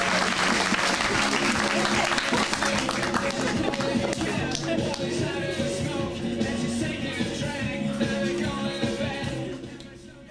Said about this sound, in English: Let's give a big round of applause for our Chaos Comedy Teens as they start out our show.